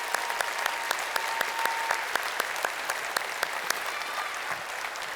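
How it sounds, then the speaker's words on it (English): A graduation commencement crowd applauds steadily, giving a dense, even clapping with sharp individual claps standing out, at moderate volume and without speech. "let's have a round of applause for each of you"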